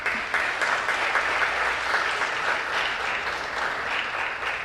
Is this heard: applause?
yes